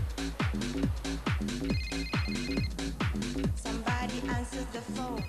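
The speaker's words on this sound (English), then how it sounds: "I hate phones that go off in the middle of interviews" A telephone rings repeatedly in a steady electronic pattern, loud and close, continuing without pause and with no talking.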